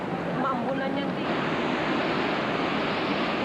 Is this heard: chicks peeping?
no